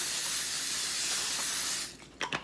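A continuous aerosol cooking spray hisses onto parchment paper for a couple of seconds, then stops, followed by two brief short bursts.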